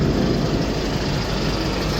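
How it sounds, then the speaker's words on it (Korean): A 2015 Kia Bongo 3 one-ton refrigerated truck's Euro 5 engine idles with a steady, low rumble and an even broadband hum, no voices over it. "엔진 소음 네 아주 컨디션 좋습니다"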